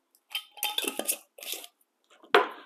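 A jar of savory curry dressing with a metal lid is shaken in a few short, quick bursts of rattling and clinking, ending in one sharper knock.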